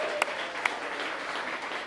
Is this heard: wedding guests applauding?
yes